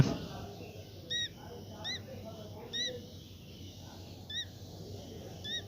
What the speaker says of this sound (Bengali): পাখির বাচ্চা কিন্তু স্পষ্ট শব্দ শোনা যাচ্ছে